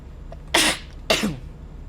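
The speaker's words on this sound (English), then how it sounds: "I had the sneezes." Two sharp sneezes, one after the other, close and loud, with a short quiet gap between them.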